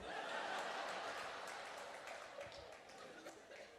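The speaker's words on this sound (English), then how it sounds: "You clapping about that?" Audience at a stand-up comedy show clapping and laughing after a joke, a steady broad wash of applause that slowly thins out over several seconds.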